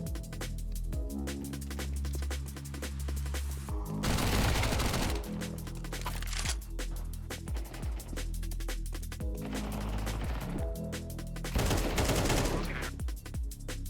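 Counter-Strike 2 match gunfire, with rapid bursts and fusillades of shots repeating across the whole stretch, dense and punchy, loudest in a few heavier volleys, with no talk over it.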